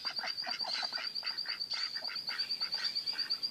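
Homestead ducks in a yard give a rapid run of repeated honking quacks, close and fairly loud, over a faint steady high whine.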